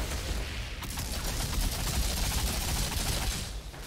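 Lava-round gunfire from the video game Outriders: a dense, continuous stream of loud rapid shots lasting nearly four seconds, easing off briefly near the start and fading at the very end.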